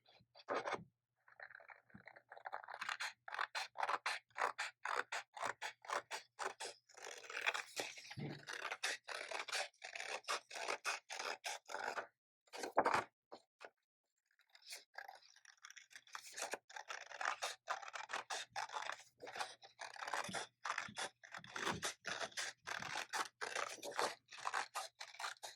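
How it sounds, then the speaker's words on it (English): Scissors cut a circle out of material for a handmade wind spinner, a long run of close, rapid snipping and scraping strokes with a brief pause midway, no talking. "So once I've done that, I like to then just cut my circle out."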